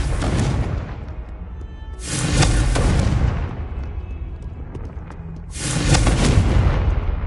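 A Confringo blasting spell exploding in Hogwarts Legacy on PS5: two loud booming blasts a few seconds apart, each a broad roaring burst that swells and trails off over a steady rumbling background, with no voices.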